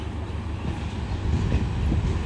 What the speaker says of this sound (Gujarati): ટ્રેને જઈ રહી છે